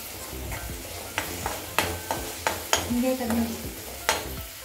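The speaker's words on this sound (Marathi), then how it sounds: "कांदा आणि टोमॅटो घेतलेले ते परतून घ्यायचं आहे." Onion, tomato and ginger-garlic paste sautéing in a pan for veg kofta curry: a spoon scrapes and clinks in an irregular stirring rhythm over a low, steady sizzle, close by with no talking.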